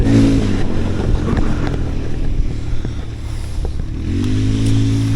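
A loud water scooter engine roars steadily nearby on the Psel River, dipping briefly and then swelling again as it speeds along with wind noise.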